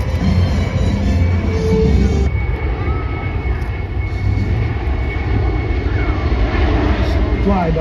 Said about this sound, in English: Flyby courtesy of the C-17.